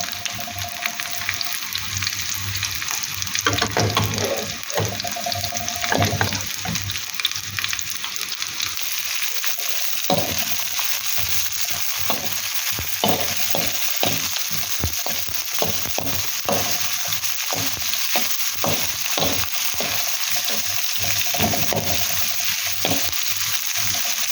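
Vegetables stir-fry in a hot pan, a steady loud sizzle broken by frequent scraping and clattering strokes of the spatula, close up throughout.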